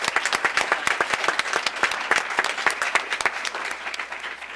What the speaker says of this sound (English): please give a round of applause to the Oak Grove Neighborhood Association